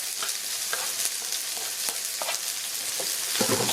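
Scallions and cayenne chili frying with salt and pepper pork chops in a wok, bright steady sizzle with quick scraping stir strokes at an irregular rhythm, close and loud.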